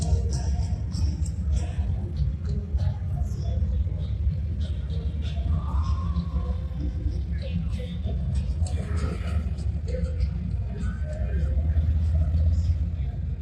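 Police motorcycles ride past on both sides during a skills challenge with obstacle courses, giving a steady low engine rumble throughout while someone talks over it.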